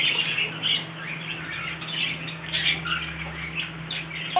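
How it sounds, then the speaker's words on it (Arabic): Caged birds, including pigeons, chirp and call together in a steady chorus, with several overlapping bright calls over a low constant hum. "وهاي طيور عمو. هاي حمام."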